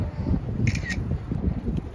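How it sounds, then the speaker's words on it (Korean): Camera shutter clicking in rapid bursts during an outdoor photo shoot on a Jeju Island trip, a quick cluster of crisp mechanical clicks over steady wind rumble and handling noise, close to the mic. "계속 셔터 갈기 오실 테니까"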